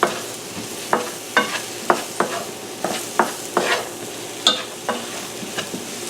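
Mushrooms sautéing in oil in a pan, a close steady sizzle punctuated by about a dozen sharp scraping stirs at an uneven, unhurried rhythm, with no voices.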